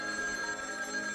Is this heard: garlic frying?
no